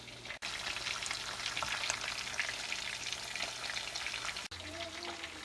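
Fish frying in hot oil at dinner prep, a steady dense sizzle and crackle that runs continuously at moderate loudness, with two brief dropouts, and no talk over it.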